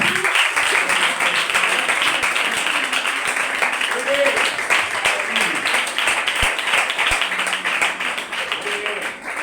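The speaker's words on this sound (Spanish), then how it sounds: "Un aplauso al Señor." A church congregation gives sustained applause during a sermon, steady dense clapping from a crowd throughout, with faint voices underneath.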